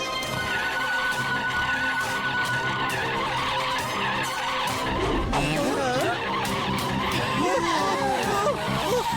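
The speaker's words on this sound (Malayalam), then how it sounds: "കണ്ടോ, വണ്ടി ഇടിക്കാതെ മാറ്റിയത് കണ്ടോ?" A cartoon car skids and swerves to dodge a crash, with squealing, warbling tire-like tones over a loud, busy bed of music and comic effects, plus a horse-like whinny in the mix.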